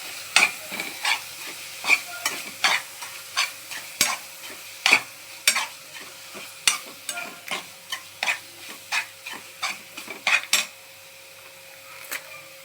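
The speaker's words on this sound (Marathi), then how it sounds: "त्यानंतर परत आपण त्याला चांगलं असं परतून घ्यायचं आहे" A Malvani-style chickpea masala mixture with red chilli powder stir-fried in a pan, with a soft sizzle under a regular run of sharp spoon scrapes and taps that stop near the end, no voices.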